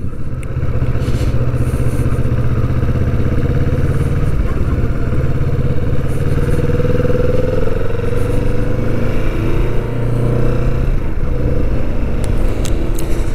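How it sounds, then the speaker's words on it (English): A 2020 Kawasaki Vulcan S motorcycle being ridden while its new engine is run in: a loud, continuous mid-pitched engine drone with wind roar, holding fairly steady revs without hard acceleration, close up and alone. "Now, I'm just running this bike in."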